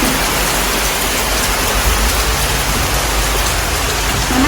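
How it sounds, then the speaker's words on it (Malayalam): Heavy rain pours down in a dense, unbroken hiss, loud and steady throughout with no pauses. "ഇപ്പോൾ പെട്ടെന്ന് തന്നെ വലിയൊരു മഴ പെയ്തു കുറച്ച് മുഴുവൻ ഭയങ്കര മഴയാണ്"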